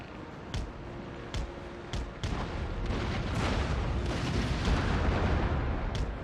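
Ship cannon fire in Empire: Total War naval battle, several sharp booms spaced through a steady rumbling sea-and-battle backdrop, some close and loud, others duller.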